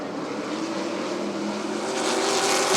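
Sportsman class race cars roar around the oval at Rockford Speedway, a dense, continuous engine drone at steady high volume that swells a little toward the end as the pack passes close by.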